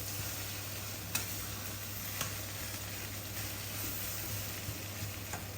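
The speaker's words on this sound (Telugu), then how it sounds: "ఇలా కొంచెం మూత పెట్టేసాం కదండి, కొంచెం మగ్గుతుంటుంది." Brinjal and ridge gourd cooking under a lid give off a steady soft sizzle with a few faint clicks, continuous and without talk.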